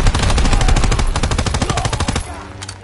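Loud, close, rapid machine gun fire in a WW2 video game, a sustained burst of rattling shots that breaks off near the end.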